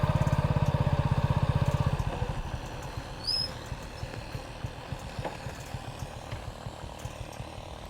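A motorcycle engine putters close by in a steady, rapid rhythm of firing pulses, strongest at first and then settling into an even idle.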